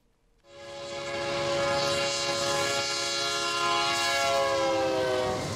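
A train passes with a loud, sustained horn blast that begins abruptly and holds steady for several seconds, close by and dominating the scene with no talking.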